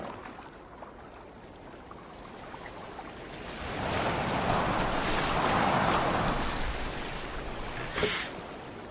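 Boat gliding over water in Assassin's Creed Valhalla, a broad wash of water and hull noise that swells midway and stays steady, with a small splash near the end and no talk.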